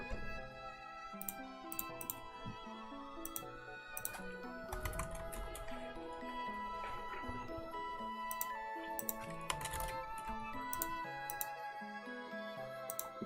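Keys clatter on a computer keyboard in steady bursts of quick, light taps, close and fairly faint, running over a bed of soft background music with no talking.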